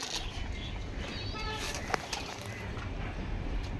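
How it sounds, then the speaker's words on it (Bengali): Pigeons being fed grain, with soft low cooing and a brief wing flutter against a faint background murmur, quiet and close. "সব পায়রা ছেড়েছি, পায়রা খেতে দিচ্ছি"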